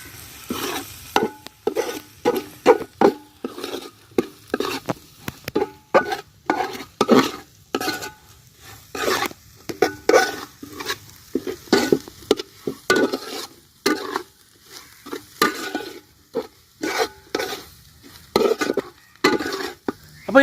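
Chilli and coriander powder stirred in a pan for chicken curry, a rapid rhythmic run of scraping, clattering spoon strokes over a soft sizzle, loud and close throughout.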